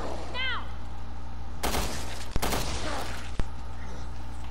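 Gunfire in the video game Resident Evil Revelations, with two sharp broadband shots near the middle and a third later, over a steady background game hum.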